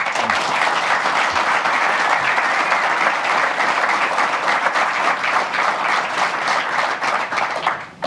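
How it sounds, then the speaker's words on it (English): An audience at the Nampo Harvest Day event in Bothaville applauds a discussion panel, a dense, sustained wave of clapping that holds steady and then tapers off near the end. "I think they deserve a round of applause, guys."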